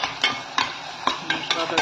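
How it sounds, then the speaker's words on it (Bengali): A metal spoon scrapes and stirs ground cumin, coriander and dried chilli powder frying in a pan for spicy kosha chicken. Short, close, regular strokes land about every quarter second over a soft, steady sizzle. "মশলাটাকে ভাজলাম,"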